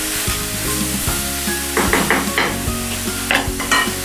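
Green bell peppers cook down in a pan of Southern cornbread stuffing for Thanksgiving, with a steady sizzle broken by repeated scrapes and stirring clatter from a spoon close up.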